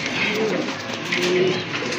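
Big Indian Bombay pigeons of Andalusian blood cooing in low, rolling calls close by, with faint voices in the background.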